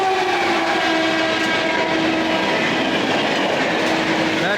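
The Kota Patna Express rushes past on an adjacent track with a loud, steady roar of wheels and carriages, clattering close by throughout.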